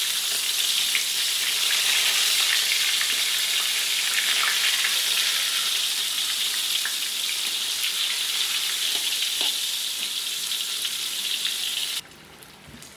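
Cream dory fish frying in oil gives off a loud, dense, continuous sizzle with fine crackling spatters, holding steady before dropping abruptly near the end; no one speaks.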